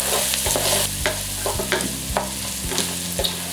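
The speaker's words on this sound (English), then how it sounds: "we're going to add in our njanga or crayfish and give that a stir" Stirring crayfish (njanga) into a Cameroonian garden egg stew in a hot pan, steady scraping strokes repeating every half second or so over a constant sizzle, close up.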